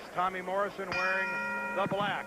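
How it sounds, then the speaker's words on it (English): A boxing ring bell opens a preliminary four-round bout in Atlantic City, a bright sustained ring with a second strike near the end, heard under an announcer's ringside commentary. "The bell sounds and away we go here."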